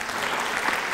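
A studio audience at the German TV show Wetten, dass..? gives steady, dense applause, with many hands clapping at once in a continuous wash of even loudness.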